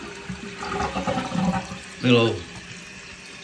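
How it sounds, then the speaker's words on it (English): A household toilet with a cracked fill tube flushes and its tank refills, a brief rushing surge of water after some bathroom handling noise, with someone speaking briefly. "let's go ahead and flush this"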